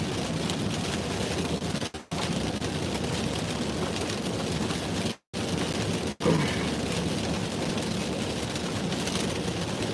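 Rain falling outdoors, a dense, steady hiss filling the whole stretch, broken only by a few brief dropouts.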